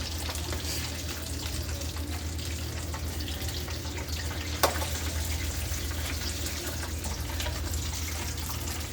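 Burritos fry in hot grease with a constant, dense bubbling sizzle held at an even level throughout, plus one brief tap partway through and no talking.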